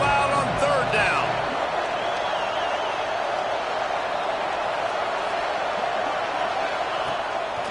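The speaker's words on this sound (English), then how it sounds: "this crowd bearing down and getting loud on 3rd down" A football stadium crowd bears down on third down in a Tigers game, a loud, steady roar that fills the whole stretch without letting up.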